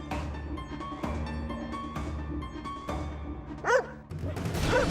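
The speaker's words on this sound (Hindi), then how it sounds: "ये कुत्ता अदालत में क्या कर रहा है?" A dog barks in a courtroom, a few short yips and one rising whine over a steady hum of room noise and music.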